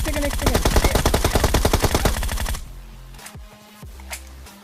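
Rapid automatic gunfire from a mobile battle royale game on an iPad, a loud fast burst of shots that stops abruptly, followed by quieter game sounds and a couple of fainter distant shots.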